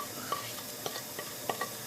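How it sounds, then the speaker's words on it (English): Cumin seeds sizzle and crackle in hot oil, with soft scattered pops and light stirring scrapes at close range. "I'm just frying off these cumin seeds."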